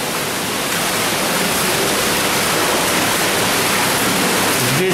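A heavy, constant rush of clean water flows through a one-and-a-half-metre underground storm drain pipe in a Moscow sewer tunnel, a loud, even, enclosed roar with no breaks.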